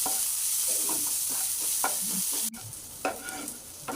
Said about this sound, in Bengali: পেঁয়াজটা খুব ভালো করে ভেজে নিতে হবে।